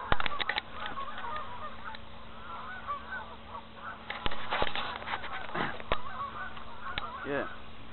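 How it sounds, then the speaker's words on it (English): A flock of Canada geese honks repeatedly, calls overlapping in irregular bursts at moderate distance as they land on water, with some louder nearby honks and a faint murmur of voices in the background. "A large number of geese had flown right over me and into the water over there"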